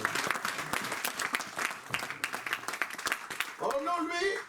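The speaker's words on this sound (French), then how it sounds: "On peut lui donner quand même une acclamation." Church congregation applauding during a pastor's sermon, a dense steady clapping that carries on through the clip, with a voice rising over it near the end.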